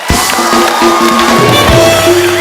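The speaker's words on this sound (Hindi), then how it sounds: "बाबा जी के लिए जोरदार तालियां हो जाएं" A studio audience at a Hindi comedy show roars with cheering and whooping, a loud, sustained crowd sound with a musical tone running through it.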